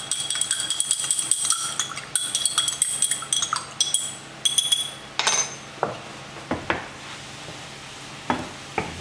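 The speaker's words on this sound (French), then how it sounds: "On mélange." A spoon stirs cornstarch into beef broth sauce in a pan with pak choi beef, scraping and clinking repeatedly against the sides in a steady rhythm, close and fairly loud, with no talking.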